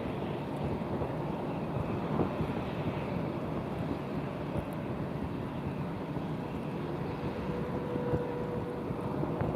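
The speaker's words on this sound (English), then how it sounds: "It's a bit of headwind over here." Steady wind blows across the open ground of Lisbon Airport on a sunny afternoon, a continuous broad rumble with faint distant aircraft noise mixed in and no speech.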